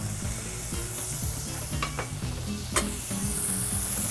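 Garlic and bacon sizzling and frying in duck fat in a Le Creuset pot, a steady close crackle with occasional stirring scrapes and light clinks against the pot.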